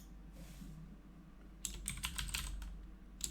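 Quick bursts of typing on a computer keyboard, faint soft key clicks near the start, then a denser cluster of sharper, closer keystrokes over a low steady background hum.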